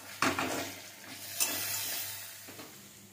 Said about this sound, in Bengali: এগুলো ভালোভাবে ভেজে নেব।